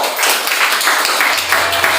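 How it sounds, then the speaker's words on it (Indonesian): High-school classmates give a round of applause for a presenting group, a loud, dense, sustained patter of many hands clapping in a classroom. "Kita kasih tepuk tangan untuk kelompok 1."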